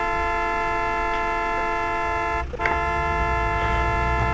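Car horn in the Polish Car Driving video game, a loud steady honk held for several seconds with a brief dip midway, close and without speech.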